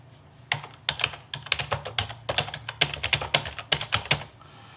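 Fingers type on a computer keyboard in quick irregular bursts of close, crisp key clicks, with a low steady hum underneath and no voices.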